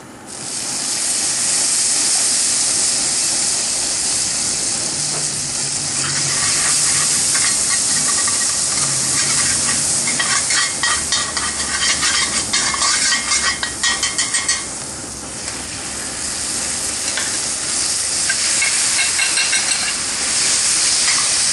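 Garlic sizzles in a hot pan while cooking nilgai pepper steak, a loud, steady hiss that swells and crackles with spattering, continuous and close with no talking.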